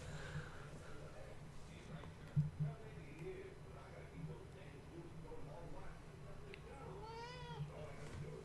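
A cat meows several times in a 1951 Superman film soundtrack, with a clear rising-and-falling meow near the end, under a low background hum and faint talk.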